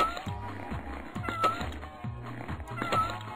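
A kitten meows repeatedly in a Flash video game, steady high-pitched cries over a looping low game tune, fairly quiet with no talk.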